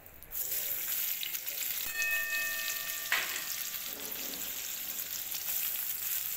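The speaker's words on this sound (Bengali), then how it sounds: "পেঁয়াজগুলো একটু লাল লাল করে ভেজে নেবো" Onions frying in oil with dried red chilli and cumin tempering for a spicy oats khichuri, a steady close sizzle with faint clinks and tones partway through.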